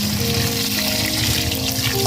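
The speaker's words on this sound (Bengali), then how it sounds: "তো তেলটা গরম হয়ে গেছে, এবারে হচ্ছে আলুটাকে ভালো করে ভেজে নেওয়া হবে" Potatoes frying in hot oil for a chicken curry, a dense, even sizzle that holds steady and close for about two seconds with no talk.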